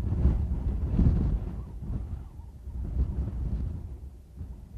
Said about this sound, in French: C'est un vent de gorge en fait. C'est un vent c'est un vent d'intérieur, de crevasse.